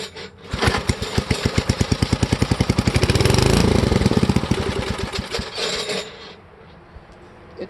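A vintage Parker thatcher engine running with an uneven, pulsing chug that rises, holds loudly, then fades and stumbles as though starved of fuel, close up with no talk.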